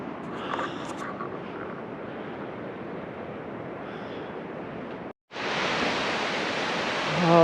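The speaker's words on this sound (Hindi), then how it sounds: "हाँ, यहाँ से भी पानी ऊपर से गिर रहा है।" Water falling from above beside the Kedarnath trekking path, a steady broadband rushing hiss that holds evenly, briefly cuts out, then returns louder and brighter, no speech.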